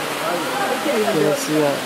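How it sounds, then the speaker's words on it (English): A waterfall rushes below a bridge as a steady broadband roar filling the whole stretch, with a person talking briefly over it. "Down at that waterfall down there."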